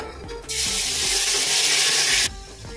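Steady rush of water poured into a pot of mutton keema for about two seconds, loud and close, over faint kitchen background noise.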